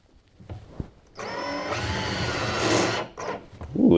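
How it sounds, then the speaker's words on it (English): A drill with a hole saw runs for about two seconds with a grinding, straining whir as it bites into wood, then stops; short bursts come before and after. "I'm going to use that center hole to drill straight through."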